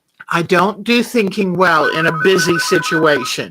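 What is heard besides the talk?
phone ringtone ringing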